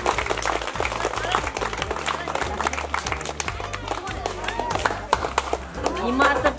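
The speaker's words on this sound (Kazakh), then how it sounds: "Шапалақ." At a school farewell evening for fourth-grade pupils, an audience claps in a dense, lively round of applause, with voices and a steady rhythmic beat running underneath.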